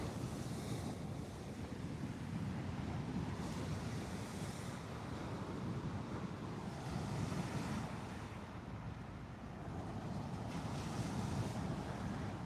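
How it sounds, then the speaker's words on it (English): Choppy night sea with waves washing in steady surges around a fishing kayak, wind buffeting the microphone throughout, swells rising and falling every few seconds without any voices. "You can hear the waves are better as well."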